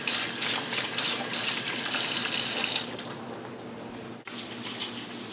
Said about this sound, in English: And run some cool water over them as well.